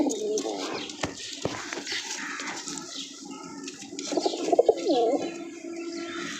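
Caught pigeons coo in soft, repeated throaty calls that swell louder near the end, with faint background voices and ambient noise.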